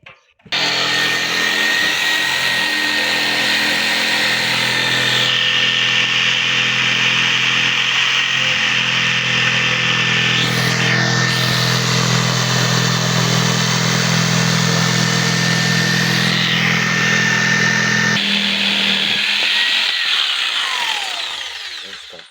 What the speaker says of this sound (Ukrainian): Чому пиляю лобзиком?